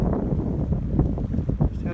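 Cold wind gusting from a passing storm near Echo Lake below Mount Evans, a steady low rumbling buffet across the microphone with small surges, close and fairly loud throughout.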